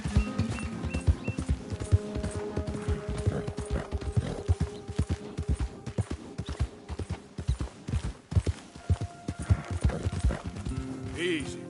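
Horse hooves pounding at a gallop in the video game Red Dead Redemption 2, a rapid irregular clatter with a snort or whinny, under game music and a rider's occasional spoken commands.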